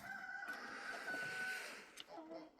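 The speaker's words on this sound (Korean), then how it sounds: "지금 닭장을 왔습니다." Chickens and a rooster in a coop on a farm, with soft clucks and a drawn-out crow-like call over a low, steady background hum, fairly faint.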